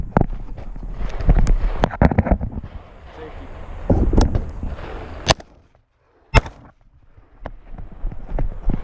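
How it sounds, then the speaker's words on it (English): Rifle shots crack out at targets on an outlaw two-gun match stage: a run of sharp, loud reports in the first half, then two isolated blasts after a brief lull, with wind noise and background rumble between them. "I just looked down the side of the rifle and watched for the impacts on these couple of targets."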